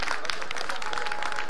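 A crowd at a one-on-one dance battle semifinal applauds loudly, with a close, continuous clatter of many hands and some cheering voices.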